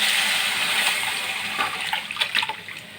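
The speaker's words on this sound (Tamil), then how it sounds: "ரசத்தை அதில் ஊற்றிடுங்க." Rasam poured into a pot makes a steady, close liquid gush that thins out toward the end into a few lighter splashes and trickles.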